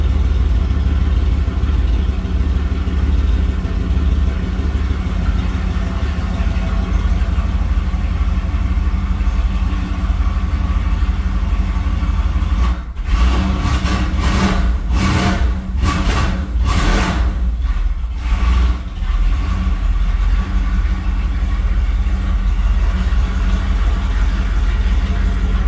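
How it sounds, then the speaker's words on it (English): A car engine idles loudly and steadily, then rises in a few quick revs as the throttle is pressed, with a slight stumble, before settling back to idle. "I jumped out there to hit the throttle"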